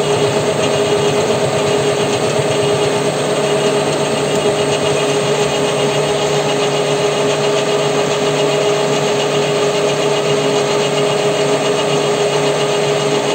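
Lathe cutting splines on an axle shaft, a loud, steady machine drone with a constant tonal hum and continuous cutting noise that never lets up, heard alone.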